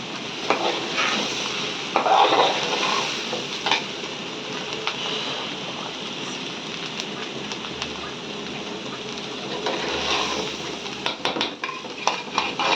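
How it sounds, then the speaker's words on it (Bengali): Rice for pulao frying in a pan while being stirred, a steady close sizzle broken by scraping strokes of the spoon against the pan, with no talk. "হয়ে গেছে তো পোলা ভাজা"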